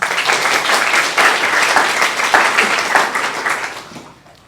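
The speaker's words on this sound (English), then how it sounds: "let's give them a round of applause" Graduation ceremony crowd applauding, a thick wash of clapping with slight surges that holds steady and then fades out at the close.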